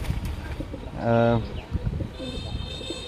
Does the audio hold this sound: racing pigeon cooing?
yes